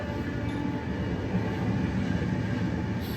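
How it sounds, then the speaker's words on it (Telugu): A train rolls past near a house, a steady, heavy rumble with rattling wagons that stays loud and constant throughout, with no voices. "సో ఇక్కడ నుంచి ట్రైన్ వెళ్తుంది మా ఇంటి నుంచి ట్రైన్ కనబడతాయి"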